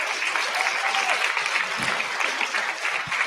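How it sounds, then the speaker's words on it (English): A brief round of applause from a gathered crowd at a summit event, dense and steady clapping carrying on for a few seconds with a couple of low thumps, no speech over it. "So we should just give him a really quick round of applause"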